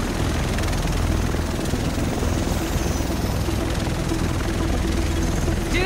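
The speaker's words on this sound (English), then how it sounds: "The rest of us should be in this chopper." Helicopter arriving in The Division, a loud continuous rotor thrum and engine roar filling the whole stretch, close and steady.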